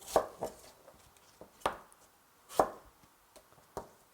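A knife chopping kohlrabi for kkakdugi, vegan cubed kimchi, on a board: sharp, close, separate thuds at an uneven pace, about seven cuts with short quiet gaps between them, no talk.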